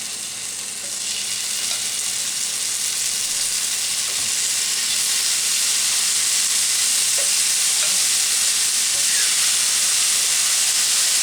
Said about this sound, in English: I'm going to take my shrimp out and put them in there.